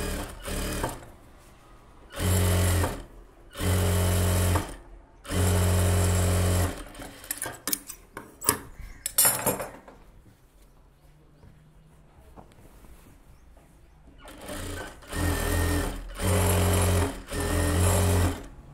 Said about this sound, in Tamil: தையல் போட்டு அடித்து திருப்பிடுங்க.